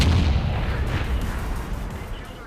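A World of Tanks artillery shell slams into a tank in battle: one heavy booming blast that rumbles loudly and then slowly fades.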